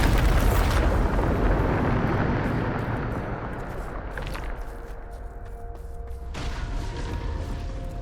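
A Bombarda spell blasts in Hogwarts Legacy, opening with a loud, booming burst that rolls into a long, fading rumble with debris-like crackle and a low hum underneath.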